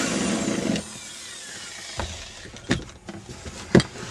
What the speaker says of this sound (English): I'm just going to take a drill and open it up to make it easy